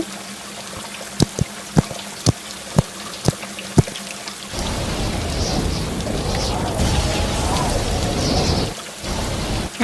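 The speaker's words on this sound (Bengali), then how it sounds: "বৃষ্টি শুরু হয়ে গেল" Rain suddenly begins to fall in a windy storm near mango trees, a steady rushing hiss that follows a series of sharp, evenly spaced ticks and carries on loudly to the end.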